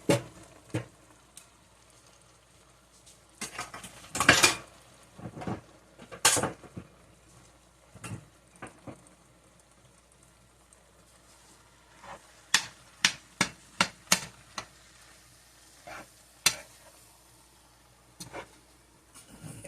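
Chopped cornbread is stirred into a holiday dressing in a bowl, with scattered close scraping and clinking strokes of a utensil, clustered in short bursts separated by quiet pauses, no talking.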